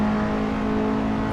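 A race car engine in a sim racing game holds a loud, steady high-rpm drone with a strong tonal buzz as it over-revs at Sebring, continuous and close without speech.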